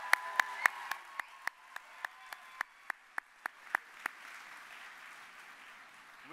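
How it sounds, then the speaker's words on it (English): Applause at a fall college commencement ceremony, heard as sparse, evenly spaced single claps that fade after about four seconds into a quiet, roomy hall. "Let's applaud that."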